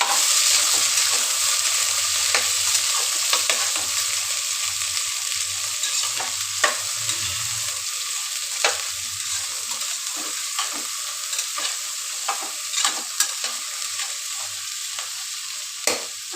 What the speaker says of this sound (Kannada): ಕಾಳೆಲ್ಲನೂ ಹಾಕ್ಕೊಂಡು ಸ್ವಲ್ಪ ಹೊತ್ತು ಬೇಯಿಸ್ಕೊಳ್ತೀವಿ ಇದರಲ್ಲಿ